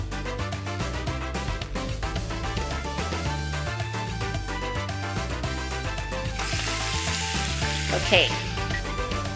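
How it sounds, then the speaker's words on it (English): Blue marlin steaks sizzling as they cook, a loud, dense, continuous frying hiss running steadily throughout under background music, with a single brief spoken word. "The fish is almost cooked, but before I turn it over, I'm going to brush it with my glaze."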